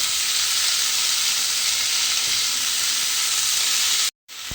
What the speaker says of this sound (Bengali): আমগুলো কিন্তু এর মধ্যে দিয়ে দিয়েছি, দিয়ে এইভাবে একটু আমটাকে নেড়েচেড়ে রান্না করে নেব।